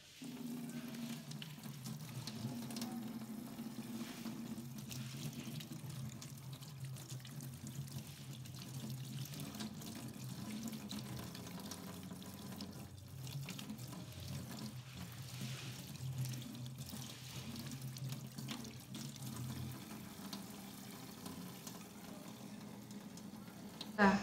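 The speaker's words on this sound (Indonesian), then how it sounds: "pertama kita akan melakukan cuci tangan terlebih dahulu" Hands are washed under a running tap before a nasopharyngeal swab, a steady close stream of splashing water that runs throughout with faint voices in the background.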